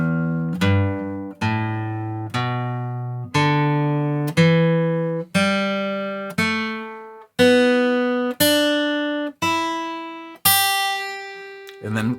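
A plucked guitar plays an ascending scale, about eleven single notes rising evenly in pitch, each ringing briefly before the next.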